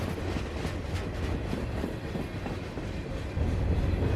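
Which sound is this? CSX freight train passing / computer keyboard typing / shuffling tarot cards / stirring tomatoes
CSX freight train passing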